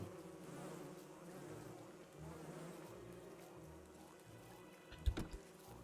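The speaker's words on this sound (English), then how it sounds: "Oh, there's a bee." A bee buzzes steadily in the Don't Starve Together video game, a continuous faint droning hum over ambient game sound, ending with a brief louder thump.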